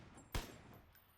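A single gunshot in PUBG from a rifle fitted with a compensator, one sharp loud crack followed by a short fading tail, with no talk.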